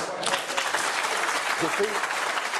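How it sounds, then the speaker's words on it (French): A studio audience on a French news talk show breaks into applause, a steady patter of clapping with a voice briefly cutting in partway through. "les applaudissements, on n'est pas dans une arène"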